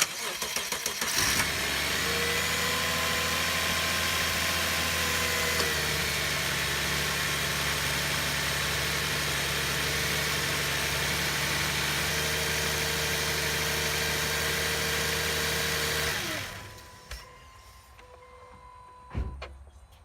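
A 2009 Subaru Tribeca engine cranks and catches after a belt replacement, then idles steadily and close for about fifteen seconds with a constant hum and whine, before shutting off into near silence with a few clicks.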